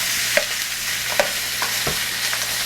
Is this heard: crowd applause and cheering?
no